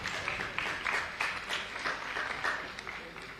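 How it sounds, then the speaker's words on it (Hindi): Fairly faint applause at a Naat recitation and speech competition prize ceremony, heard as repeated bursts of clapping that rise and fall in quick waves. "ये जोरदार तालियां।"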